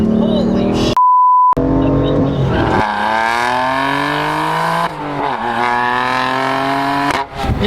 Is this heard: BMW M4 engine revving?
yes